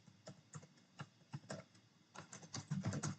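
Computer keyboard typing git commands, a run of quick irregular keystrokes close up that grows denser and louder toward the end, with no talking.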